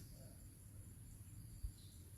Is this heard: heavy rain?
no